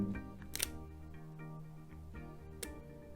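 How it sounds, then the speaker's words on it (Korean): A camera shutter opens and closes for a 2-second long exposure, with a sharp click, a pause of about two seconds, then a second click, close and clear over a low hum. "들리셨죠? 2초 동안 사진 찍힌 거거든요."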